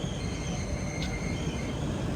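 A passenger express train rolls past on a single-track line, making a loud, steady rumble and rattle of wheels and carriages close by with no break, while the listener's train waits.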